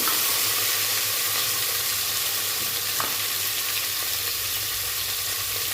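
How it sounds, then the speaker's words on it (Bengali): Mixed vegetables frying in a pan for bhuna khichuri, a steady loud sizzle and hiss with faint scraping as they are stirred, no talk. "এইসব সবজিগুলো আমি দিয়ে দিলাম। দিয়ে এবার একটু নাড়াচাড়া দিয়ে"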